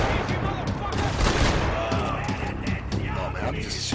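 Rapid, overlapping gunfire bursts from the shooter game Max Payne 3, dense and loud across the whole stretch, with a voice talking over the shots.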